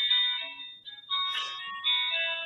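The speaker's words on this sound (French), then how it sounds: "Ça va s'arrêter le téléphone, excusez-moi, je ne sais pas si vous l'entendez" A telephone rings indoors with a repeating electronic melodic tone, loud and close, with a short break partway through before the ringing resumes, and no speech over it.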